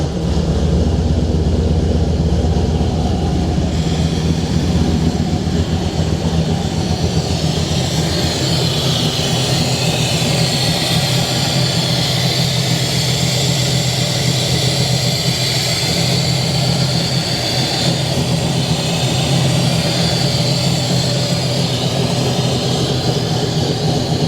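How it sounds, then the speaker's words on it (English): The Oldsmobile V8 in a frame-off restored 1970 Buick Skylark convertible idles steadily and loudly up close, a deep, even rumble held for about twenty seconds with no talking. "I absolutely love the way Oldsmobile engines sound"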